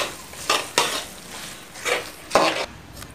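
Stirring broad beans poriyal with salt in a pan, a spoon scraping and clinking against the metal in about six short, distinct strokes over a faint sizzle.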